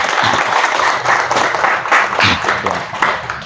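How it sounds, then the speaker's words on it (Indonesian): A crowd claps and applauds continuously for a few seconds, loud and close, with scattered voices mixed in. "Tepuk tangan untuk kita semua ini, ya."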